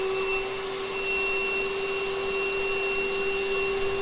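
Cooling system of an acne treatment laser running during the procedure, a steady loud airy whoosh with a constant high whine, unbroken throughout.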